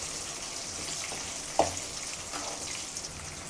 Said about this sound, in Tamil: அதனால வெங்காயம் வதங்கிக்கிட்டு இருக்கையில் மிளகாயை போட்டுக்கலாம்